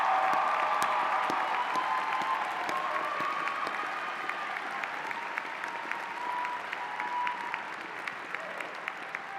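A large commencement audience applauds first-generation graduates, producing a sustained, dense wash of clapping that holds steady for several seconds and then eases slightly.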